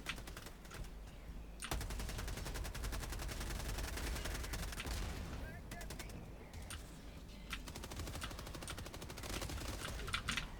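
Rapid machine gun fire rattles in long bursts during a Helldivers 2 game session, with scattered shots and explosions and a voice talking over the gunfire.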